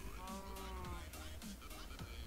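Minecraft cows mooing in the game, several overlapping low, drawn-out moos in quick succession over a brief stretch, loud and close.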